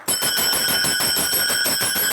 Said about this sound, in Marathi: टाळ